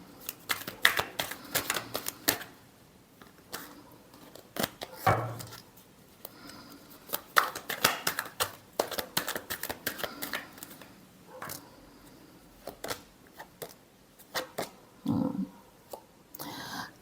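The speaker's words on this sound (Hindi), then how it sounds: "Last shuffle." Tarot cards being shuffled in a series of quick crisp riffles and flutters, close and fairly loud, with short pauses between bursts and no talking.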